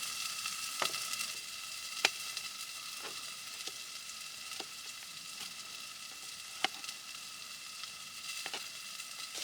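Garlic sizzles steadily in a pot at a late-winter camp inside a canvas hot tent in Michigan, a constant soft hiss with occasional faint clicks and spoon taps, heard up close with no talking.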